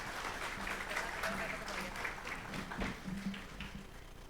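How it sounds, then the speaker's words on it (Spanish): Faint applause from a crowd patters on steadily in the distance while a voice talks over it. "Reiteramos ese fuerte aplauso."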